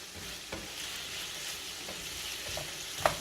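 Ingredients for chicken marsala fry in a pan with a constant loud sizzle, broken by occasional stirring clatter and a sharp knock near the end.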